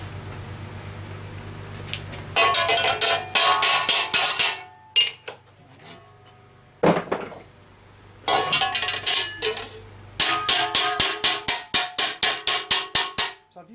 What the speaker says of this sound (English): So I've used this slightly rounded faced hammer, because as I hit, that will stop to help put that curve in.